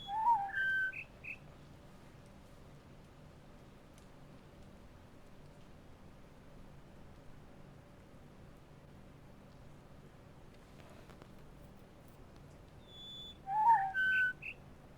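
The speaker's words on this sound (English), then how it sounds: "I keep listening to the chirp chirp." Short bursts of bird chirps in The Witness, a quick cluster of bright whistled calls at the start and another near the end, over a faint steady outdoor hiss like light rain.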